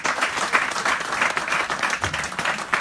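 A church congregation claps steadily and densely in worship to acclaim the Lord, a full, sustained round of applause from the whole room with no break.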